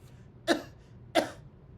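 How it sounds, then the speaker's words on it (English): Two deep, forceful coughs about 0.7 seconds apart, each a sharp close burst with no talking around them, demonstrated during a pulmonary rehab breathing exercise. "I'll demonstrate a good cough."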